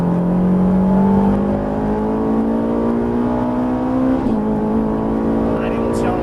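A Ferrari 458 at full throttle on the Haut Saintonge race circuit, its engine note climbing steadily and loudly, then dropping briefly at a gear change before pulling hard again, with a voice faintly underneath.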